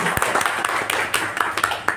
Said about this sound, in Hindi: मैं सारे यहाँ से उपस्थित लोगों से यह अनुग्रह करता हूँ कि एक बहुत बड़े तालियों के साथ डॉक्टर दुष्यंत का स्वागत करें